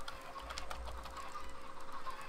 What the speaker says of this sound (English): I don't remember spawning so many chickens.